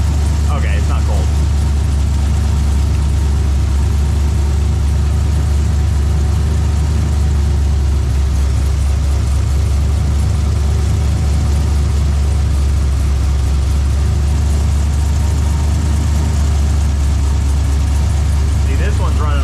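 An LS V8 engine swapped into a Nissan 240SX idles steadily in a garage, a loud continuous low rumble that holds throughout.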